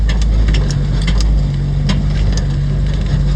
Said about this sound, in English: We're riding around out in the Jeep in Death Valley